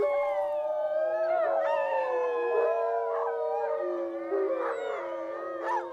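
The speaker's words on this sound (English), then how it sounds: "The farmer must play the recorded rival wolf howls every day" Recorded wolf howls played through a speaker in a forest, several overlapping long, wavering howls from a pack, steady and moderately loud with no talking.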